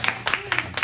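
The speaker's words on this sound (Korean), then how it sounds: "박수 한번 쳐주시죠" A few people clap at an intimate art salon talk, four quick bursts of close, sparse handclaps within a second.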